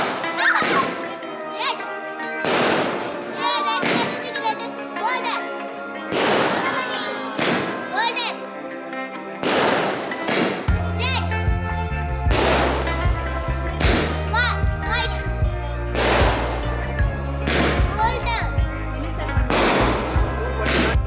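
Diwali firecrackers burst at a new house, sharp loud bangs going off repeatedly in uneven bursts, some rapid strings of cracks, with voices and music running underneath.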